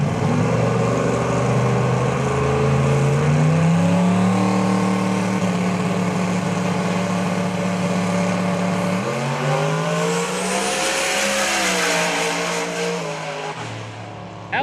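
Ty Casper's pro drag race car makes a single pass at Maryland International Raceway during a PDRA test session, a loud, sustained engine roar with shifting pitch that drops and fades near the end as the throttle lifts.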